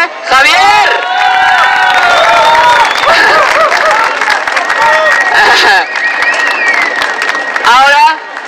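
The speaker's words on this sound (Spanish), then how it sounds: "démosle un gran aplauso a nuestro gran amigo de Colombia" A crowd at an urban highline competition applauds and cheers for an athlete, loud, continuous clapping mixed with whoops, shouts and excited voices throughout, swelling again near the end.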